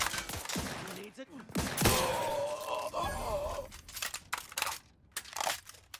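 Gunfire in The Outer Worlds 2 during a raid on mantisaurs: several sharp shots and bursts pop through a busy mix of crunching impacts, with game voices intermittently heard over the action.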